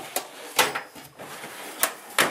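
Tool box drawers sliding and knocking, several sharp clunks and rattles at irregular intervals, close and with no talking.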